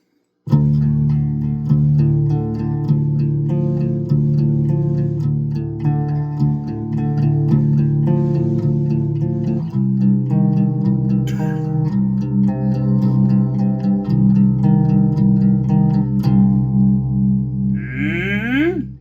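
Clean electric guitar picks out sustained chords and single notes with reverb, played steadily and close, with no talking.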